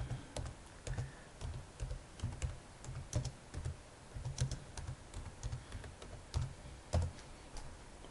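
Computer keyboard being typed on, a quick irregular patter of close, crisp key clicks with short pauses between bursts.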